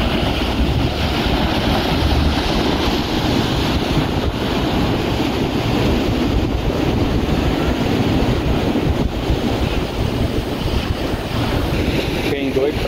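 Rough, agitated sea surf rolls continuously onto the beach at Iriry lagoon in Rio das Ostras, a loud, steady wash of breaking waves mixed with heavy wind buffeting the microphone, with no clear voices.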